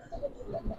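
Pigeons coo softly at a loft of Giribaz racing and fancy colour breeds, low murmuring calls rising and falling across a brief stretch, fairly faint with some background noise.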